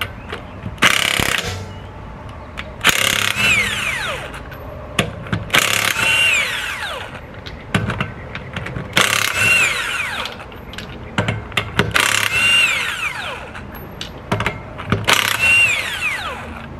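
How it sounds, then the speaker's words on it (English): An impact wrench or power ratchet loosens the lug nuts on a 2011-2013 Buick Regal wheel, with about five loud whirring, rattling bursts separated by short pauses and metallic clinks, close by. "Next, you're going to release the lug nuts."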